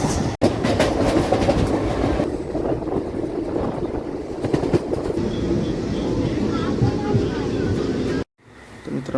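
Inside a crowded local commuter train heading to Diva, heard from beside the open door: a loud, continuous rumble with rhythmic wheel clatter and wind. Voices murmur underneath, and there is a brief drop-out near the end.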